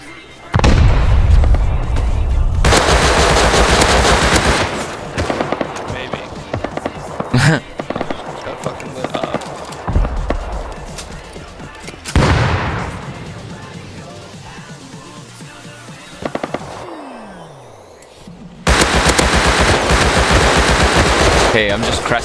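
Automatic gunfire in the survival video game Rust, with loud rapid bursts near and far, some single shots, and gaps filled with other game noise.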